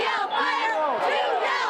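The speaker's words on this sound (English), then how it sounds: "One of the best parts of going to a football game is hearing the roar of the crowd." A stadium crowd at a football game roars and cheers continuously, loud and close, with whoops and shouting voices blending into a sustained wall of sound.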